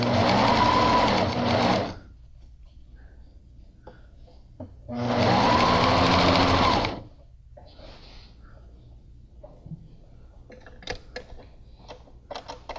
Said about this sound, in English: And you're sewing along that same stitch line at 1/2 inch.